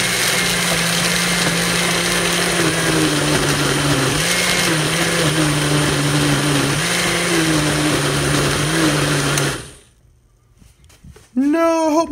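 A loud blender grinds raw pork steadily for several seconds, its motor pitch wavering, then cuts off abruptly; a brief burst of noise follows.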